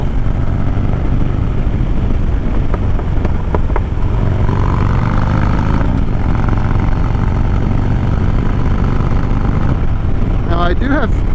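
A Harley Dyna motorcycle riding on a highway gives a steady engine drone with heavy wind rush throughout, while a rider talks over it.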